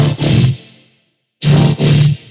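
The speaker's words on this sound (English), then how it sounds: "On the chord, I have this auto pan rate switch, and when you turn it on, it's going to sound like this." Heavy, distorted tearout dubstep chord with the auto pan effect switched on, heard as loud, gritty bursts broken by a brief silent gap.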